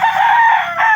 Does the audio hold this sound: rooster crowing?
yes